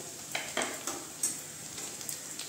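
Onions with ginger garlic paste fry in a pan for a yoghurt chicken dish, a soft steady sizzle broken by several quick stirring scrapes, close and fairly quiet with no talk.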